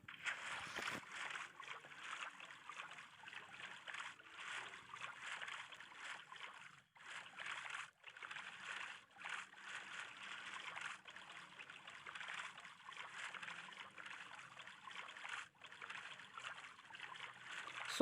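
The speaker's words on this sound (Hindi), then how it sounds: "तो अभी अपनी बोट रखते हैं पानी के अंदर। बोट पर हम बैठ लिए, अब हम चलते हैं गाइज।" A boat glides along a river in Minecraft, a soft, continuous watery rush and trickle with brief dips, heard alone without talk.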